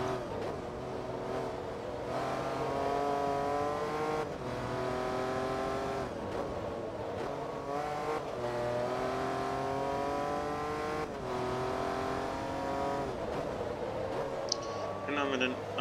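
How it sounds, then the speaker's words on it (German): Porsche Carrera GT engine in the racing game Forza Motorsport 2, a loud sustained engine howl rising and falling through repeated gear changes, with a person talking over it. "Ah, der Porsche Carrera GT. Den Sound sieht man, hört man noch sehr selten."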